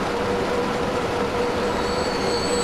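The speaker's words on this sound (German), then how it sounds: "Da ist der Diesel, die amerikanische Lok, genau." American diesel locomotive hauling a long freight train in the Transport Fever 2 game: steady, continuous rumble and rolling wheel noise with faint high squeal tones, loud and unbroken.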